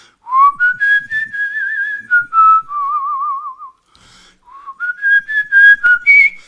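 A person whistles a tune alone and close, with clear sustained notes and quick warbling runs, a brief pause in the middle, then the melody resumes.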